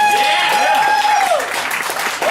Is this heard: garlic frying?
no